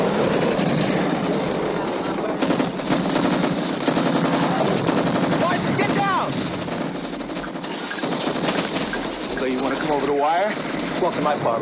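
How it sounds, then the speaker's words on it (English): Sustained machine gun fire in a war-film battle scene from Platoon Leader (1988), loud and nearly continuous bursts with rattling gunshots, with shouted voices heard intermittently among the shooting. "We're under heavy fire here."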